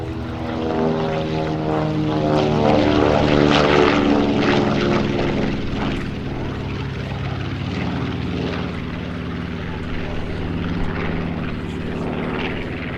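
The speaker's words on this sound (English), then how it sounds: "Here's our C-31 on the rollout." A C-31 propeller aircraft rolls out at the Great New England Airshow, its engines droning loudly with a steady harmonic propeller hum that swells slightly and then holds.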